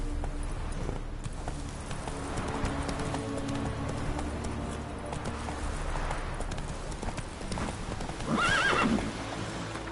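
In the video game The Witcher 3, a horse's hooves clip-clop steadily and nearly continuously, ending in a loud whinny near the close, with game ambience underneath.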